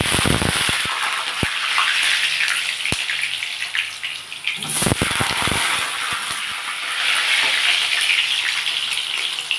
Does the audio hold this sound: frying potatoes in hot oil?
yes